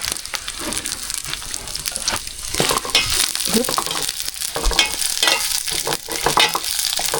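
Chili, garlic and shallots fry in oil for a pork chili paste, a loud, dense crackling sizzle close by, broken by stirring and scraping sounds with no one speaking.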